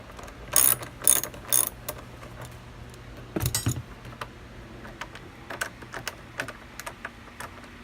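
Ratchet working loose a tail light fastener on a 1997-98 Toyota Supra MKIV, heard as quick close bursts of metallic clicking, a few in a row, then a longer burst, then fainter scattered clicks.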